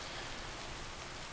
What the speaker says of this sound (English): Today's a rainy day.